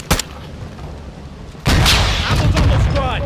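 A launcher blast in Call of Duty: Modern Warfare II: a short crack near the start, then a heavy booming explosion that rolls on loudly with a rumbling tail, and a voice faintly under it.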